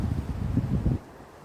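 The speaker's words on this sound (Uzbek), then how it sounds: "Bu yerda qattiq shamol bo'ladi." Strong wind gusts through a fruit orchard, buffeting the microphone with a low, rumbling roar for about a second before it quickly dies down.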